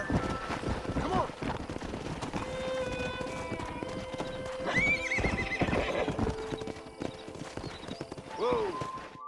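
A stallion in Red Dead Redemption clip-clops along with steady, close hoofbeats and whinnies loudly a few times, while people talk over it.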